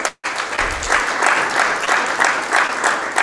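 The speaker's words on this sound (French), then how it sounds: "Est-ce que vous pouvez fortement applaudir pour nos panélistes?" Loud, steady applause from a conference audience for a panel of speakers on the economy, a dense wash of clapping after a brief pause, sustained throughout.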